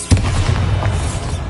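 Bombarda explosion spell in Hogwarts Legacy on PS5: one sudden booming blast that swells into a dense, rumbling roar and lasts a second or more. No voices are heard.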